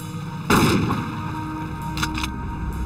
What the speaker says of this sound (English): Thomas then ordered Jerry to sink the cooler by firing slugs into it.